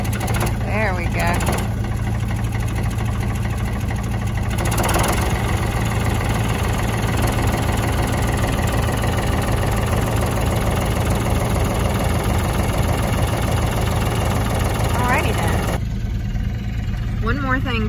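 An engine idles steadily through a cold morning on a farm after a cold start, a constant low rumble that holds loud and close the whole way, with people talking over it at times.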